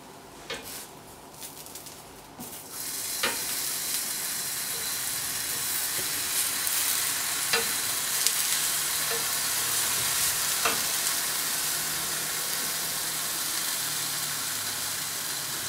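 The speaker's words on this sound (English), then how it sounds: "just grill it until it starts to come through" Eggplant slices sizzle in oil on a grill, a steady close hiss that builds after a quieter start and carries on evenly with occasional light pops and crackles.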